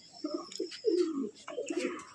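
Pigeons coo from a loft cage full of bloodline birds, a run of soft, throaty rolling calls in close succession, one voice overlapping another, with no talk over them.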